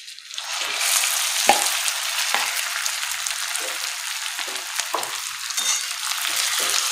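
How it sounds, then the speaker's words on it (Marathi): Boiled potatoes hit melted ghee in a pan over low heat and give off a loud, steady sizzle and crackle. The sizzle runs unbroken and close, with occasional scraping stirs, while potato shira is made for a fast. "आता आपण यामध्ये उकडलेले बटाटे टाकूया।"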